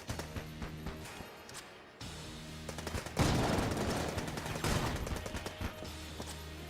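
Rapid video game gunfire in Enter the Gungeon, bursts of quick shots that swell into a dense, sustained volley in the second half, played without talk.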